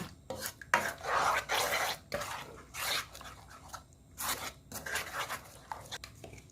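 A spoon scrapes and stirs green-cap seasoning sauce into a chicken wing marinade in a bowl. Repeated rasping strokes come close and fairly loud in uneven bursts, with short pauses between.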